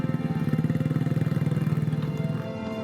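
A modified motorcycle, used to travel rough roads through Bogani Nani Wartabone National Park, runs close by with a fast, regular chugging engine pulse that holds steady before easing slightly at the end.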